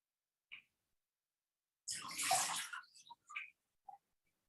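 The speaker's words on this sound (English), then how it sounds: "Wash your feet." Water splashes in a short burst as feet are washed in a basin during a meditation session, followed by a few small drips and sloshes in a quiet room.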